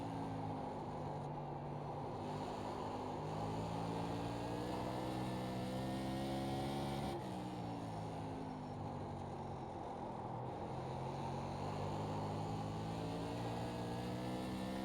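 A Tour Modified race car in iRacing drones loudly around the Irwindale outer oval, its engine pitch climbing and falling in long, repeating sweeps as it accelerates, shifts and lifts, with no voices over it.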